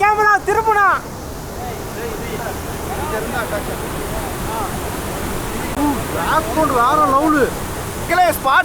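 Rushing water from a waterfall on the flooded Noyyal River, a steady broadband roar filling the whole stretch, with voices talking over it at the start and toward the end.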